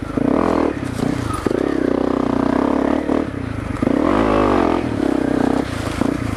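A Honda CRF250L motorcycle on a trail through loose rock and brush. The engine revs and surges close up in repeated bursts, and branches scrape and clatter against the bike.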